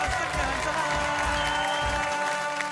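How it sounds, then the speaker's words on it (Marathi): Studio audience on a Marathi TV show breaks into sustained, dense applause that keeps a steady, loud level for the whole stretch, backed by faint music. "एकदा जोरदार टाळ्या होऊन जाऊ दे"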